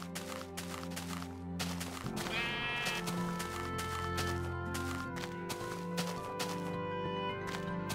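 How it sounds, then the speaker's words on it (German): Minecraft sheep bleat loudly while being sheared with shears, several drawn-out bleats alongside quick snipping clicks against a musical background. "bis zu 4 Blöcke Wolle schmeißen die Schafe von sich, wenn man sie mit der Schere bearbeitet."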